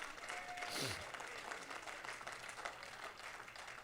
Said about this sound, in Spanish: Demos un aplauso grande a Cristo